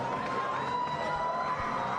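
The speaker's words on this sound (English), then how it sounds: "And you can hear the crowd" A crowd in the sold-out Belasco Theater in downtown Los Angeles at an LA Fight Club boxing event makes a continuous roar of cheering and shouting, fairly loud and steady for the whole moment.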